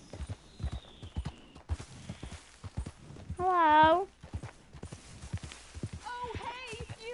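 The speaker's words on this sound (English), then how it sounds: "That's a beautiful horse." Horse hooves clip-clop at a steady walking pace in the western game Red Dead Redemption, close and fairly soft, broken by a short loud burst midway, while a person calls out once.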